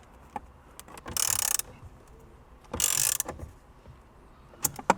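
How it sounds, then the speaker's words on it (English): Two 10mm bolts are driven into the dashboard of a 2022 Lexus RX with a ratcheting tool, two bursts of rapid clicking separated by a pause, plus scattered taps and clunks nearby, no talking. "all we're gonna go ahead and do now is put back on the two 10mm bolts"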